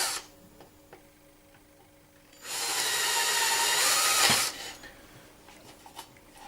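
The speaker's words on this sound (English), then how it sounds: "At this point I may as well drill the clearance holes for the fixings for the indicator" A power drill bores clearance holes with an 8mm bit for indicator fixings, a loud steady high whine lasting about two seconds, close by, with quieter handling noises before and after.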